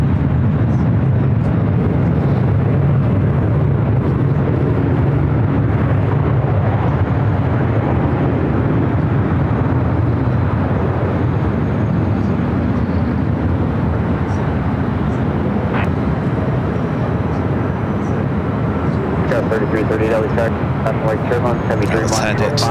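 An airliner lands on runway 24 at LAX on the north side at night, its loud, continuous jet roar filling the scene as the aircraft passes close by, with talk running over it.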